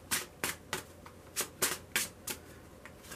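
A tarot deck being shuffled and handled, giving about nine crisp papery riffles and snaps in an uneven rhythm, close and fairly quiet, with no talking.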